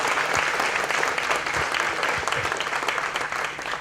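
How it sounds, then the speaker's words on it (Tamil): Loud, sustained applause from a large audience at a book launch, a dense and steady roar of many hands clapping that holds without a break. "மீண்டும் ஒரு பலத்த கைத்தட்டல் ஐயா."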